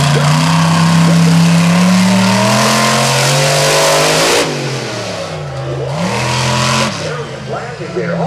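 A monster truck engine revving hard at a Charlotte Motor Speedway monster truck bash, a loud roaring rise and fall that dips and surges again, with an announcer talking over it.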